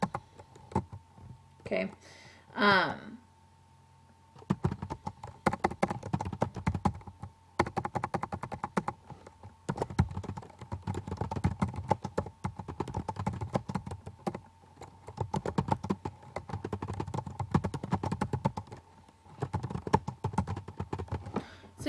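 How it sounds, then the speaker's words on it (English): Keys clatter on a computer keyboard in quick irregular bursts of close, crisp taps, pausing briefly between runs, after a short spoken word at the start. "So then you can type, welcome to pre-algebra."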